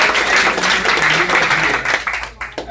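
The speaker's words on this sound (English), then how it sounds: "Give yourselves a hand." A huge crowd applauds at a political rally, dense, loud clapping that fills the space and then thins and breaks up toward the end, with some voices mixed in.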